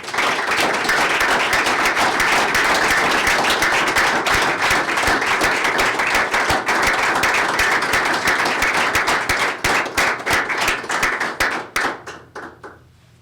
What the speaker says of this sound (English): give our finalists a round of applause